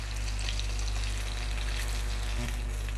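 Fish pieces frying in oil in a pan after being turned over, producing a constant, close, dense sizzle that stays even throughout with a low steady hum beneath, and no talk.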